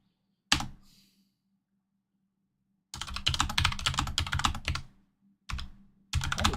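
Close, loud clattering of keys on a computer keyboard in a quiet room, starting with a single sharp tap, then a dense burst of rapid typing for about two seconds, followed by short further bursts, no voices.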